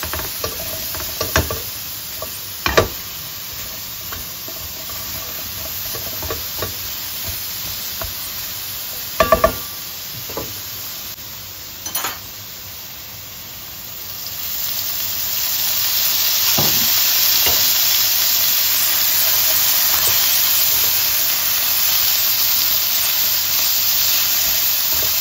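Squash frying in a pan for a salad, with soft sizzling and scattered scraping stirs at first, then a louder, steady hiss of frying that builds and holds through the second half, close and without speech.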